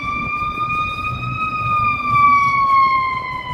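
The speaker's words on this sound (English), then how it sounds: "Here we got the ambulance." A wailing ambulance siren rising and falling slowly in pitch, loud and fairly close, with city traffic rumble beneath in Chicago.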